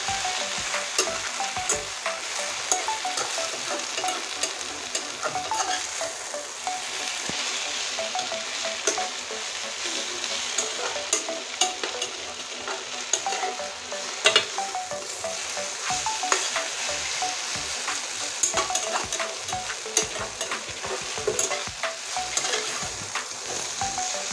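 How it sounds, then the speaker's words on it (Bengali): Taro leaves being stir-fried in a pan so they dry out completely, giving a steady close-up sizzle with frequent scraping and stirring clatter that runs without a break and with no voices. "এবার কচু শাকটা সুন্দর করে ভাজা ভাজা করে নেব, যেন একটু জল না থাকে"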